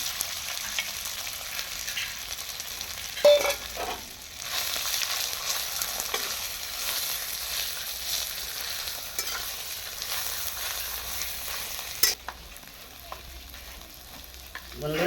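Ground vetkel-leaf paste with a little turmeric sizzles steadily in a pan while being stirred, with scraping strokes and a couple of sharp utensil knocks against the pan.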